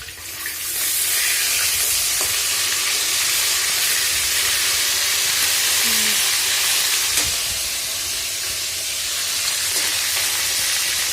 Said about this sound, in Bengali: এই দেখো এখানে ভাজছি করে